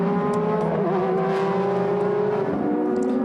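Super GT race cars from 2006 roar past at the Motegi circuit, a loud continuous engine drone with pitch sweeps as cars pass and rev, filling the whole stretch.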